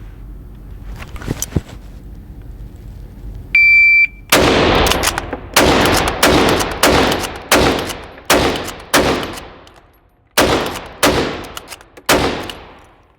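Ten loud, sharp rifle shots from bolt-action rifles fired with modern ammunition in rapid succession, each crack followed by a short pause for cycling the bolt, close and dominant with no talking.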